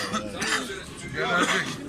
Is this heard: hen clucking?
no